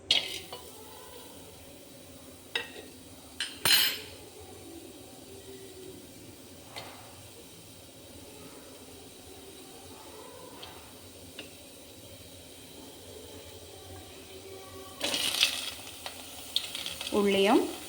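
Onion, tomato and raw mango pieces go into a pot on the stove for a Kerala-style prawn and mango curry and are stirred, giving close scrapes and clinks over a faint sizzle, busier near the end.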